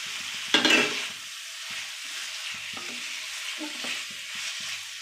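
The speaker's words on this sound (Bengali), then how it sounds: "এই ভাজা আলুটা দিয়ে দিলাম, দিয়ে এর সঙ্গে ভালো করে কষিয়ে নেব।" Fried potatoes are stirred into a sizzling spice paste of ground tomato and coriander powder, with a loud scrape and clatter near the start followed by steady frying hiss and soft stirring knocks, and no voices.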